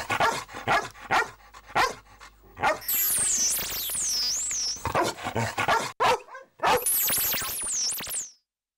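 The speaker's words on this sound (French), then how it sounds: "Le docteur Suzuki a enregistré puis analysé des milliers d'aboiements" Recorded dog barks, a series of sharp, loud yelps and barks in uneven bursts, some rising into high whining yips, with short silent gaps between them.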